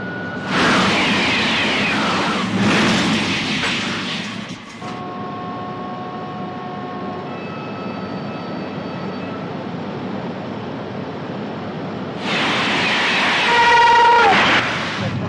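TGV high-speed test train running at over 370 km/h, a loud sustained roaring rush of wind and rail noise with steady tonal whines, swelling at the start and again near the end.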